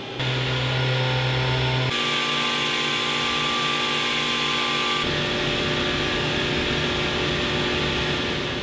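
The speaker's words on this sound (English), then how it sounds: "there is the preliminary block in the mill ready for the spirals to be cut" Milling machine cutting spirals into a quarter-inch-thick 110 copper block, a loud continuous motor whine with tonal shifts in pitch as the cut proceeds, steady throughout with no talk.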